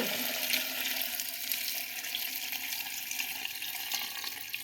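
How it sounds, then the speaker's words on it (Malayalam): Cooled boiled salt water is poured steadily over mangoes packed in a pickling jar, a faint, even watery rush with no talking. "മാങ്ങയൊക്കെ പരണിയിലാക്കി അപ്പം അരിച്ചു വെച്ചിരിക്കുന്ന വെള്ളം ഒഴിക്കുകയാണ്"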